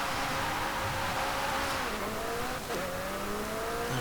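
2020 McLaren GT driven around a racetrack in Forza Horizon 5, with a steady loud engine drone whose pitch rises and dips with gear shifts and a brief dip near the end, with no talk over it.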